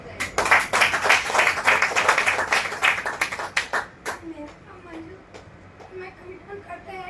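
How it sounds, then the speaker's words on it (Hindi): Loud, energetic audience clapping at a network marketing training event, dense and rhythmic for about four seconds before dying out into scattered claps, with a voice speaking over the tail. "जोरदार ताली बजाइए।"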